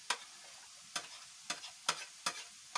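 Ginger and garlic stirred into frying kebab ingredients in a pan, five or six evenly spaced scraping strokes, each followed by a short sizzle against a quiet background, close and moderately loud.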